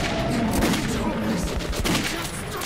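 Gunfire rattles in the video game Metro 2033, a dense, loud stretch of rapid shots and bursts heard close up.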